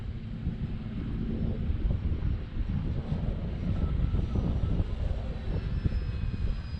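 An OMP BigHorn radio-controlled model airplane drones steadily overhead at Eastgate Park in Dothan, its engine whine continuous and fairly loud, mixed with buffeting wind noise against the microphone.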